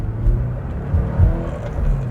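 A 1989 Porsche 944 Turbo engine pulling under acceleration as turbo boost builds, a loud steady interior drone with low rumbling surges and a whirring tone, no speech over it.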